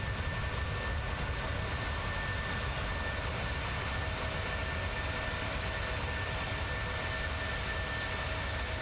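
Steady, continuous roar of PMDG 737-600 jet engines during a takeoff roll in Microsoft Flight Simulator, a dense broadband rumble with a faint high whine holding level and loud throughout, with no voices.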